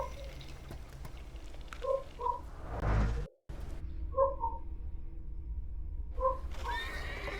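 Horse neighing in The Thaumaturge video game, a few short whinny calls rising out of a steady ambient background, fairly near, with a brief loud swell and a sudden drop partway through.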